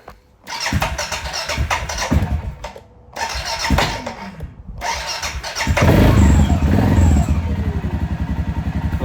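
A 2023 Suzuki King Quad 750 ATV engine cranks in a few bursts with short pauses, then catches and settles into a loud, steady idle close by.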